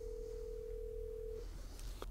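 A Yealink T41/T42 desk phone connecting a call: a steady tone plays close and clear for over a second, then cuts off and gives way to a couple of faint clicks.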